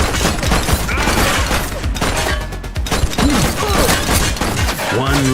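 Dense, continuous gunfire rattles through a shootout in the video game The Precinct. Loud, overlapping shots and crashes mix with game effects.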